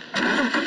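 Car engine in the video game Deadland starting up, a short burst that settles into a steady mid-pitched running hum, close and moderately loud.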